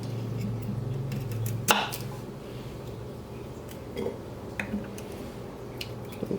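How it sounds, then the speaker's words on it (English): Vegetables being cut in half with a kitchen knife during cooking: a few scattered soft knife taps and thuds on a cutting board over a steady low background hum, fairly close. "I'm trying to cut them in half evenly."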